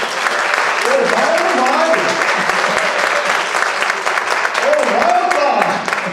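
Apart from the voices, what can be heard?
church congregation applauding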